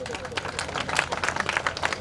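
An audience at a community felicitation ceremony claps in a short, uneven burst of moderately loud hand claps, with a murmur of voices beneath.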